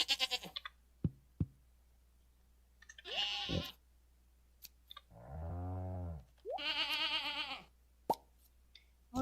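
A sheep bleats a couple of times in Stardew Valley during winter farm tending, short nasal calls separated by soft plops and clicks in an otherwise quiet game scene.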